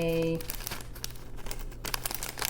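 Close crinkling and rustling of a small packet being handled, in short irregular bursts with a brief tearing quality, heard over a steady tonal background.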